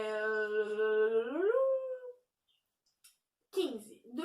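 A dog lets out a long, drawn-out whine that holds steady and then slides upward before fading, close and clear; after a short silence a person starts talking.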